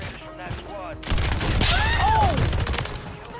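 Rapid, continuous bursts of KASTOV LSW light machine gun fire in a video game, loud and dense with booming impacts, running under a brief voice.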